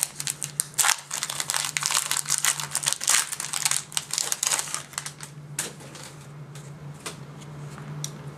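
Yu-Gi-Oh Galactic Overlord booster pack wrappers get torn open and handled, a rapid run of crinkly foil rustles and crisp crackles, busy at first and then sparser.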